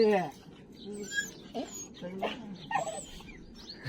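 A dog whimpers and yips in short, thin, high cries scattered among people talking nearby, with a louder yelp at the end.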